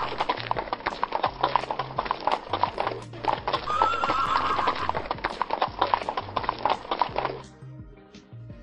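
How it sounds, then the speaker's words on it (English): A horse whinnies clearly while hooves clop in a steady rhythm throughout, close and loud, over a looping musical backing. "H is for horse."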